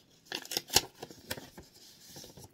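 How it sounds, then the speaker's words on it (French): Paper envelope torn open by hand, a quick series of crisp ripping crackles up close and fairly quiet, fading into soft rustling with no talking. "Hop, je la déchire."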